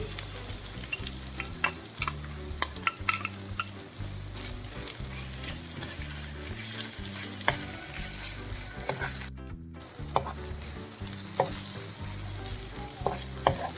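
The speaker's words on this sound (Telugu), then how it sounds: "మొత్తం ఇవి కూడా పచ్చివాసన పోయేదాకా వేయించుకోండి" Raw mango paste frying with spices in a pan makes a continuous close sizzle, broken by repeated stirring scrapes and light clicks of the spoon.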